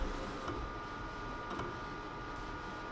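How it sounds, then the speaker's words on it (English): A vinyl cutter runs quietly during heat transfer vinyl production, giving a faint steady mechanical whir and hum with a couple of small ticks and no talk. "There you can see the cutter going"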